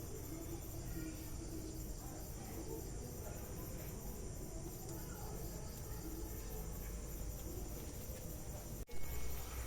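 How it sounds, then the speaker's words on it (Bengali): Lobongo lotika sweets fry in hot oil in a kadai, giving off a dense, even crackling hiss that holds steady throughout, with one brief clatter near the end. "লবঙ্গ লতিকাগুলো ভেজে নেবো"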